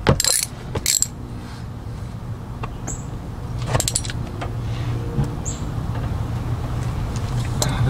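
A hand ratchet works on a 5/16 bolt on an automatic Mitsubishi Evo X MR transmission, with a few sharp clicking bursts near the start and middle, then quieter intermittent clicks over a steady outdoor background.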